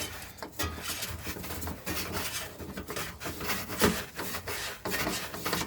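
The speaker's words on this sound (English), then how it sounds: "you're gonna screw it on by hand" A new oil filter being screwed on by hand on a Ram 1500 EcoDiesel during an oil change, giving close, quiet scraping and rubbing with short grinding strokes repeating in an uneven rhythm, with no voices.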